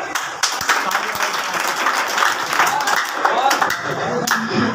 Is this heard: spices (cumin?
no